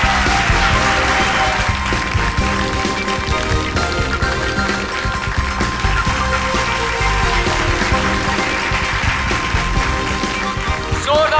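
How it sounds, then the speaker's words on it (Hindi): Loud, sustained applause from a crowd fills the whole stretch, dense and steady, with music or voices faintly mixed in. "जोरदार तालियों के साथ इनका अभिनंदन करिए"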